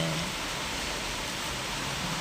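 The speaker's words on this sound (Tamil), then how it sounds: "அஞ்சு நிமிஷத்துக்கு ஒரு கோட்டை 5 நிமிஷம் ரெஸ்ட்டு விட்டு விட்டு பெஞ்சிட்டே இருக்குது மழை" Steady rain falling on a morning of days-long downpour, an even hiss heard alone with no voices, constant and unbroken from start to finish.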